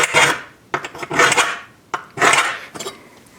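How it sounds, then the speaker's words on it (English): A scriber is drawn across metal for a forge build, three or four close, harsh scraping strokes with short pauses between them. "Then I'm going to scribe right across."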